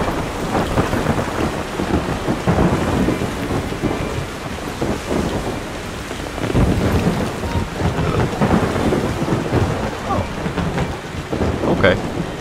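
Steady, loud rain pours and thunder rolls repeatedly in the video game Yonder: The Cloud Catcher Chronicles, the storm swelling and easing in waves, with a brief bright crackle near the end.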